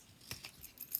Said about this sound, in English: I'm just going to snip that off